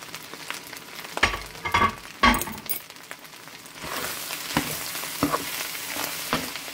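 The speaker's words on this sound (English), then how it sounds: "what I'm going to do is just go ahead and dump my eggs in here" Eggs scraped into a hot cast iron skillet of rice and onions hit with sharp clatters and a burst of sizzle, then a steady frying hiss continues with occasional metal clinks.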